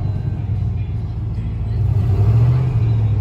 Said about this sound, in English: It's a cold start. I just started it up.